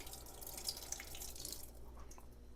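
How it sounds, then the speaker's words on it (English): Tap water runs steadily over a waterproof label stuck on a dishwasher-safe item, a continuous close splashing and trickling stream with faint drips and no talk. "So I'm going to run some water over this, so we'll see if the name gets destroyed."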